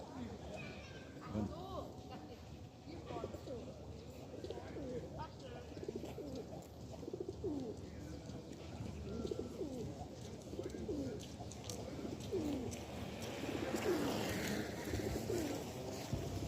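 Pigeons coo softly while being fed plain bread, their murmuring calls running steadily beneath a busy wash of background noise and distant voices.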